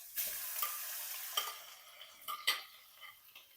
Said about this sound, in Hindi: लहसुन अदरक को भी मैं लाइट गोल्डन कलर आ जाने तक खड़े मसालों के साथ फ्राई कर लूंगी